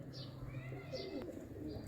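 Pigeons kept by a fancier cooing softly in a loft, low murmuring calls repeating through the moment with a few faint chirps above, fairly close and steady.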